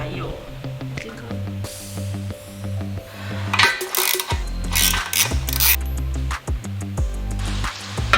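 A ratchet wrench loosens the 10 mm stainless chain guard bolts on a Hartford Yunbao 223H motorcycle, giving loud, close, rhythmic clicking runs while someone speaks over them.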